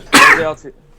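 A single sharp human sneeze, loud and close, a quick burst that trails off within half a second, heard during a sports talk discussion.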